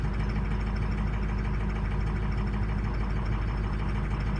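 A diesel engine with worn injectors and misfiring cylinders idles after a cold start, a steady close rumble with an uneven knocking pulse and no speech.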